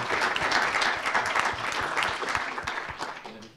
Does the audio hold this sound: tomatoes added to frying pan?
no